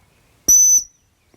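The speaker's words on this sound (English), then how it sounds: "So the last one is going to be the British style whistle." A British-style dog training whistle gives one short, clean, high-pitched blast, sharp and close, then cuts off into silence.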